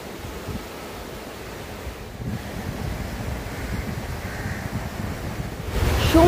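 Ocean surf rolls onto the beach at Mousuni Island, a broad steady wash of waves with wind buffeting the microphone, swelling louder toward the end, with no voices.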